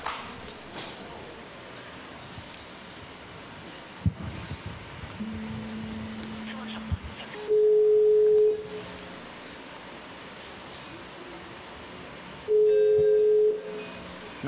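An unanswered telephone call rings on a line, with two long, steady electronic ring tones separated by a quiet pause over a low background.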